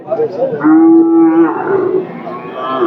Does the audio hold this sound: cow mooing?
yes